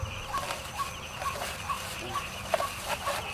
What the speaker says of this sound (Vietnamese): Chỗ này là mình đánh tiếng trích